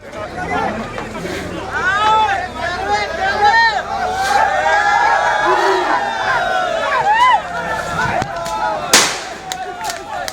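Locals cheering and shouting as a rescued baby tusker elephant climbs out of a well in a forest area, a dense crowd uproar with excited voices and whistles, loud and sustained.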